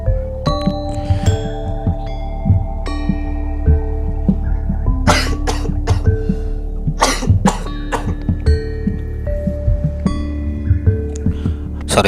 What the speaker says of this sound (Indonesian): Sorry sahabat, tadi batuk